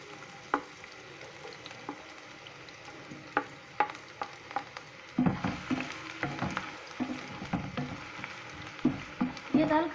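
Onions frying in hot oil in a kadai, a soft sizzle punctuated by sharp clicks and scrapes of stirring that grow busier and louder midway through.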